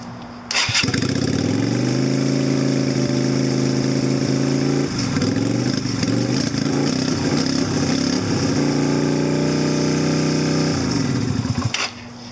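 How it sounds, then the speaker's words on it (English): A Yamaha Virago 250 (XV250) motorcycle engine runs steadily at a high idle in about 40-degree weather, a loud, close, droning hum that dips and settles slowly before cutting off. "It takes forever to get back down to idle."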